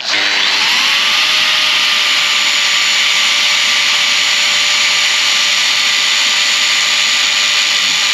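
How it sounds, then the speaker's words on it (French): An angle grinder fitted with a large grinding disc cuts the cone off a screw from a Thule 4200 awning, a loud, close, sustained high whine that spins up and holds steady throughout with no talk. "Une visseuse, une disqueuse avec un disque à meuler"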